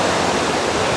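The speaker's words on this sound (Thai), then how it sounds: "น้ำตกชื่อดังของจังหวัดเชียงใหม่" Huay Kaew waterfall in Chiang Mai: a loud, dense, steady roar of falling water, close and unbroken, with no voices.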